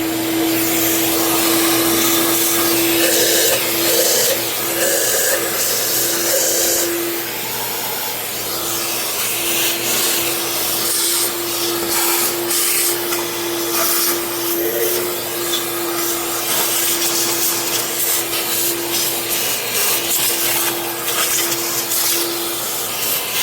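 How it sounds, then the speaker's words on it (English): A shop vacuum cleaner drones steadily and loudly at close range while cleaning out the engine bay of an Impala with the engine removed, its nozzle scraping and rattling against the metal surfaces throughout. "let me vacuum this out"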